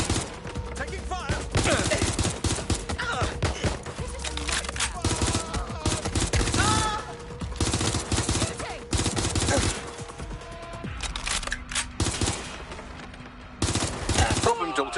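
Rapid bursts of automatic gunfire and single shots crack out repeatedly in the video game Watch Dogs Legion, loud and dense throughout, with brief pauses between volleys and a voice speaking over the shooting.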